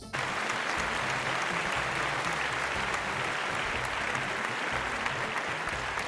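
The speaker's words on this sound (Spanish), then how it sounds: "recibamos con un fuerte aplauso al doctor" A crowd applauds warmly for a welcomed doctor and speaker at a live event, a steady dense clapping that holds loud and unbroken from start to finish.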